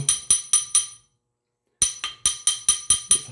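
Small hammer blows ring out on metal rings being hammer finished, four quick bright strikes, a pause of silence, then six more in a steady rhythm, each with a short metallic ring.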